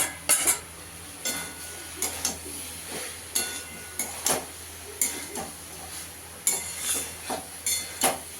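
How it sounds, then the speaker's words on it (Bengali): Pointed gourd frying with potato in a pan, a utensil scraping and knocking against the metal in repeated strokes every half second or so over a faint background sizzle, with no talking. "ভালো করে একটু কষিয়ে নিতে হবে পটলটা দিয়েও"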